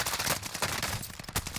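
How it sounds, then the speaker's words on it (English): Gunfire bursts off to one side in the video game Warzone, a rapid string of loud, sharp cracks over about a second and a half. "the moment we heard gunfire going off to the left-hand side and we saw those tracers"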